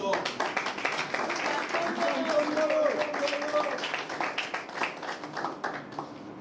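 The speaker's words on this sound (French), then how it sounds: "J'ai cité Félix Antoine Tshisekedi Tshilombo, que vous pouvez applaudir." Audience applause for President Félix Tshisekedi at a political address, scattered clapping with voices and cheering mixed in throughout.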